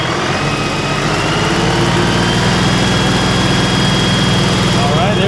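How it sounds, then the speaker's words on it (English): A Mech Maxx SG-24 stump grinder, driven by a tractor's 540 PTO, works on a stump with a loud, continuous mechanical roar and engine drone, close and unbroken throughout. "let's get this first stump grinded down here"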